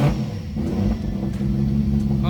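Car engine running on newly fitted AEM Smart Coils idles with a loud, steady low rumble close by, slight revving swells, and no clear talk over it.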